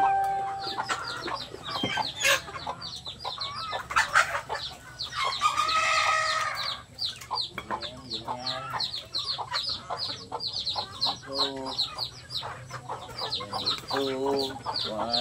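Chickens cluck and squawk steadily throughout, with a rooster's crow partway in, over a low farmyard hum; occasional faint human voice in the background.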